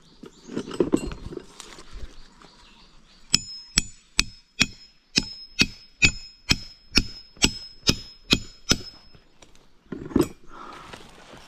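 A stake is hammered into dense, hard wood in a steady run of about a dozen sharp, ringing blows at an even pace. Rustling and handling sounds come before and after the strikes, and no one talks.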